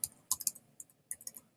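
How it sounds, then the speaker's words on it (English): Quick clusters of keystrokes are typed on a computer keyboard, crisp and close, in two short bursts with a pause between, and no talking. "as I'm typing in the name down here"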